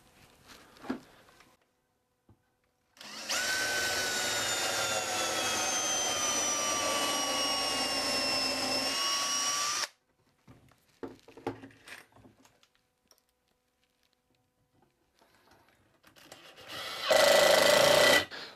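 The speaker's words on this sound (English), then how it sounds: "I'm just going to drive one screw through here and we'll be ready to go." A power drill drives a screw into wooden furniture during a restoration repair: one sustained whining run lasting about seven seconds, loud and close, followed by light handling knocks and a brief second burst at the end.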